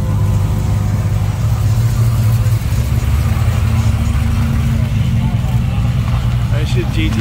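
Car engine at a show on Amelia Island, a close mid-pitched engine idling with a brief rev rising over the crowd background, steady and loud throughout.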